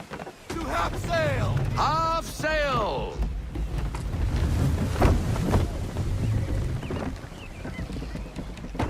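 A sailing ship under full sail in Assassin's Creed 3 with wind and rushing water rumbling steadily close by, while voices shout and call out over it.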